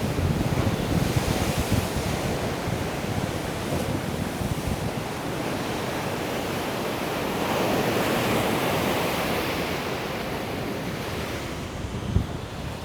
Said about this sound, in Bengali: সমুদ্রের তীরে ঢেউগুলো আসছে পড়ছে।